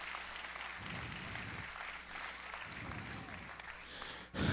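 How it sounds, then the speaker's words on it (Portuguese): A church congregation claps together, a soft, steady patter of many hands that swells in waves, faint and somewhat distant, with no talking over it. "Agora você pode dar outra salva de palmas"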